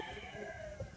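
Chickens at the BBM Game Farm, gamefowl kept for sale, clucking and stirring in a busy low murmur with a brief louder squawk near the end, over steady background noise.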